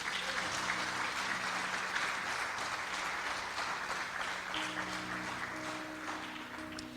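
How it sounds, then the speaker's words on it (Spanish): Steady applause from a church congregation, a continuous wash of clapping at moderate distance holding evenly for several seconds without talk. "¿Le das un aplauso a Jesús?"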